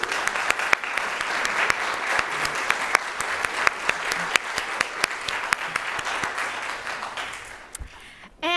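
Audience applause welcoming guests at an evening event, a sustained, dense clapping from a sizable crowd that carries on for several seconds, then tapers off near the end.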